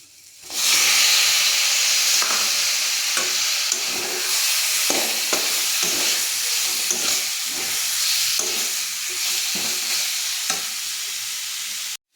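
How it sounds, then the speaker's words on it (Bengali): Tomatoes frying for a fish curry hiss and sizzle steadily in a hot pan, with a spoon scraping through them now and then, close and fairly loud with no talk. "কিছুক্ষণ নাড়িয়ে নেওয়ার পর আমি এখন টমেটো দিয়ে দেব।"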